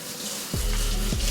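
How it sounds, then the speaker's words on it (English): Hot tap water runs to rinse the parts of a Nama J2 juicer, starting abruptly partway through as a steady, loud rushing stream close by, with a brief shift in its flow near the end. "So I'm gonna turn my water on hot, and then I just use my water here."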